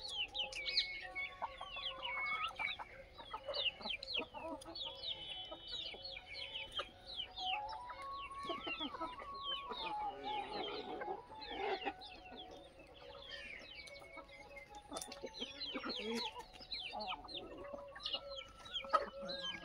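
Desi hens clucking steadily in a rural yard, several birds near and far with overlapping cackles and chirps, and a rooster-like call, no talking.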